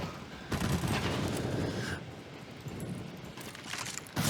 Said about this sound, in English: My kind of gun. The LMG.